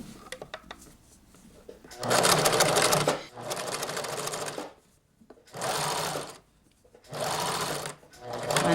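A sewing machine stitching along a fabric edge runs in four loud, steady bursts of rapid whirring, separated by short pauses with faint handling clicks and a little quiet talk.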